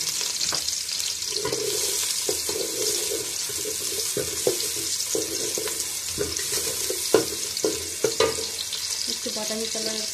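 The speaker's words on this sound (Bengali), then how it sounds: "প্রথমে পেস্টটা আমরা ভেজে নেব ভালো করে।" Spice paste for khuder bhat frying in a pan, a steady close sizzle with repeated scraping and knocking of a spoon as it is stirred, and no talking.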